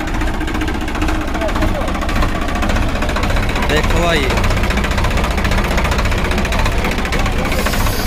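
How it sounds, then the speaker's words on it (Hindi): A modified Swaraj 963 FE Five Star tractor, a new 2020 model, idles with a steady rumbling, knocking engine throb close up, while someone talks over it. "बढ़िया वाला बिल्कुल नया ट्रैक्टर है।"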